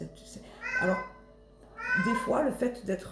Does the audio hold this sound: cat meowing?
yes